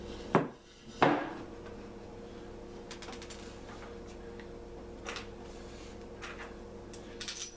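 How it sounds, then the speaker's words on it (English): A metal pot being handled for a homemade candle heater gives two sharp close metallic clanks near the start, followed by quieter scattered ticks and clinks over a low background hum. "What we'll start off doing is taking this pot right here."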